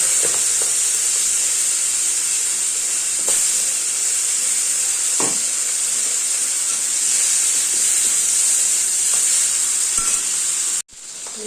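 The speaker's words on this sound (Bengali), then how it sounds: "ইলিশ মাছের মাথা মাথাটাকে ছোট ছোট কেটে নিয়েছি মাথাগুলো আগে একটু ভেজে নেব" Small-cut hilsa fish heads fry in hot mustard oil tempered with mustard seeds and a dried red chilli, giving a loud, continuous sizzle that cuts off abruptly near the end.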